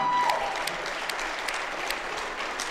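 Steady applause from a gymnasium crowd at a high school boys basketball senior night, honoring a graduating senior; continuous clapping fills the room at moderate loudness with no voices over it.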